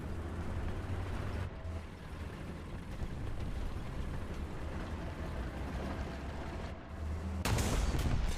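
Tank gunfire in the War Thunder game, on a Char FCM 2C heavy tank, comes as heavy booms over a constant low rumble, with a sharp, louder burst near the end and no speech.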